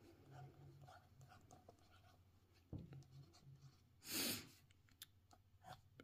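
A Sheaffer Intensity fountain pen scratches softly across paper in short separate strokes, faint and close, with one louder rustling burst partway through.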